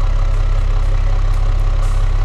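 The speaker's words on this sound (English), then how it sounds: "this is a petrol engine, and it sounds like a diesel engine" Petrol pickup truck engine from the game Automation idles at about 700 RPM with a deep, loud, diesel-like rumble and an even low pulsing throb, steady with no talking.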